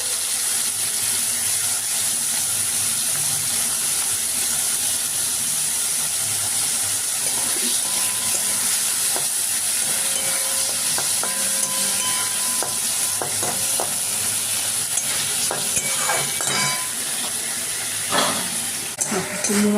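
Prawns fry in hot mustard oil in a kadai, giving a loud, continuous sizzle and hiss up close. Occasional stirring clinks and crackles rise above the sizzle.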